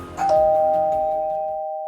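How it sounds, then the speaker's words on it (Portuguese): A doorbell sound effect in a narrated story chimes once, clear and close, with a pure tone that rings out and slowly decays, no voices over it. "A campainha do tranquilo anexo tocou pouco depois."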